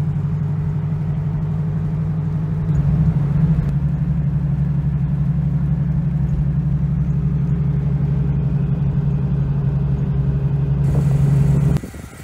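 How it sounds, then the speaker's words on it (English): A Porsche 944 out on its first test drive after restoration gives a steady, close engine drone, rising slightly in level a few seconds in and holding constant before cutting off at the end. "All right, I'm taking her on her first test drive."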